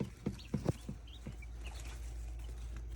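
Young chicks newly added to a laying flock and meat-bird batch give a few soft, close clucks and peeps early on, then quiet farm-pen background.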